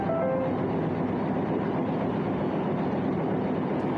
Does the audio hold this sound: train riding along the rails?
yes